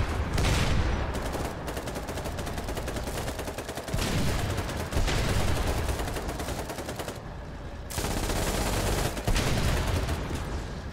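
Sustained, loud video-game gunfire raking tier-one tanks, with dense automatic bursts that roar almost continuously and pause only briefly between volleys.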